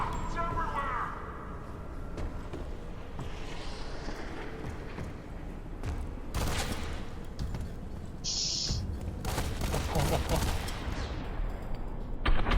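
Gunfire in the shooter game F.E.A.R. 3, with scattered bursts and single sharp shots spread across the clip, a few louder blasts near the end, under frequent talk from a male player.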